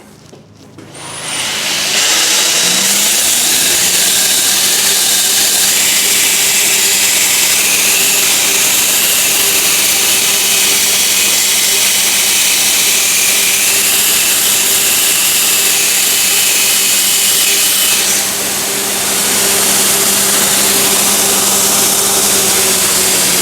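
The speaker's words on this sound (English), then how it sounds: "we're going to use the slack belt between the platen and the idler wheel up here to grind the teeth off" A slack belt grinder runs loud and steady as a steel graver is held against the soft belt section between platen and idler wheel to grind its teeth off, the motor spinning up and then a continuous abrasive whine and hum.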